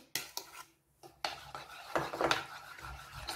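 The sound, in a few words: mixing dry ingredients into pancake batter in a bowl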